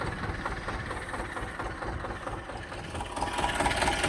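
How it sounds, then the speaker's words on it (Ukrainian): A T-25 tractor engine drones steadily while disking a weedy field before oats are sown, laboring as the tractor slips in heavy soil; a continuous rough mid-distance rumble with a faint clatter, no talk. "Дуже тяжко дискується, взагалі трактор буксує."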